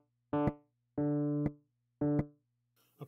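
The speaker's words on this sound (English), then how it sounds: "that's the noise of when you let go of the real Wurlitzer keys, it makes that noise." Three sustained electric piano notes from the Waves Electric 200 Wurlitzer plugin each stop with a short click as the key is let go, followed by a faint, brief mechanical rattle at the end.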